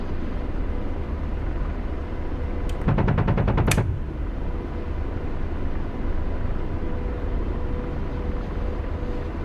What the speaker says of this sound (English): we need to test fire